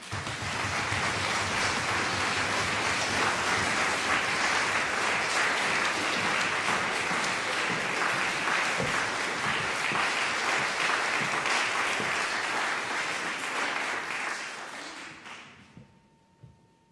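A large concert audience at the closing performance of a Hamburg cello festival with a hundred cellists claps in sustained, dense applause, steady and loud, then fades away near the end.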